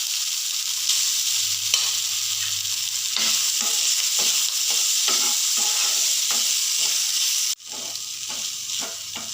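Bitter gourd slices fry in hot oil in a pan, giving a steady close sizzle broken by repeated scraping strokes of a spoon stirring, with a short pause near the end before the sizzling resumes.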